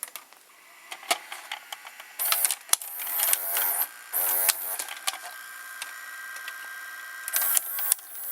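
A Hitachi VT-M191A VCR's tape mechanism runs through its eject cycle, with whirring motor bursts, rapid clicks and mechanical ticking, loud and close, in uneven spurts.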